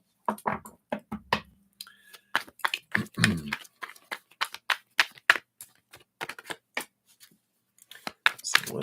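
Tarot cards being shuffled by hand at close range, a run of crisp riffling and snapping flicks in quick irregular bursts, with a person talking intermittently over the card noise.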